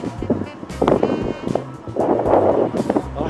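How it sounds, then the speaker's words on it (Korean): Wind gusts buffet a high glass observation deck in Busan, roaring in uneven surges and rumbling against the microphone, with faint voices in the background. "이게 바람이 불어가지고 흔들려요."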